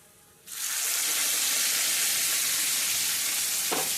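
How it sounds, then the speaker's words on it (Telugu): A sudden loud hiss as split moong lentils hit a hot oil tempering, the sizzle surging and holding steady, with a faint scrape of stirring near the end. "పోపు అయితే వేగిపోయిందండి ఇప్పుడు మనం పప్పు వేసేద్దాం"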